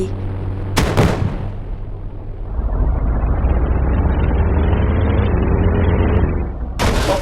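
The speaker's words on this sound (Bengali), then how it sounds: "এক্ষুনি আপনারা দেখতে পাচ্ছেন আমি ট্যাঙ্কের মধ্যে উঠে পড়েছি" A tank in a war video game rumbles loudly with a deep, continuous engine drone, punctuated by two sharp cannon blasts near the start and end.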